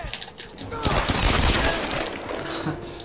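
Gunfire in the Tomb Raider video game, a dense burst of rapid shots with echoing crackle that builds and lingers over game ambience.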